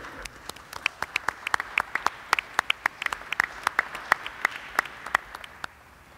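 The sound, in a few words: audience applause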